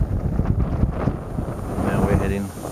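Strong wind buffeting a microphone in gusty, rumbling bursts on a footpath walk near Church Stretton, with a voice speaking briefly under the noise.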